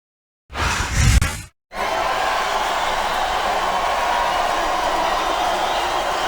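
Crowd noise in the wrestling video game WWE SmackDown vs. Raw 2007: a short loud burst of arena roar, a brief cut to silence, then a steady, sustained crowd wash to the end.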